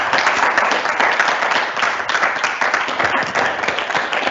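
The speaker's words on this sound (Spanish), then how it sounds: "yo quiero que el aplauso sea solo para él." Audience applause fills a university hall after a formal address, a dense, steady wash of many hands clapping that holds at an even, loud level from start to finish with no voices on top.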